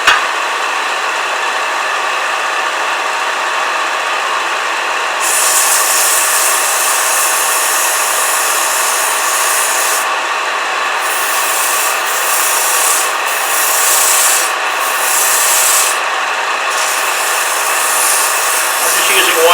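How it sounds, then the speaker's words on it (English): 180-grit sandpaper rubs against a wooden bottle stopper spinning on a lathe, a steady close hissing scrub over the motor's hum, with the pressure easing and rising a few times. "Do a little sanding."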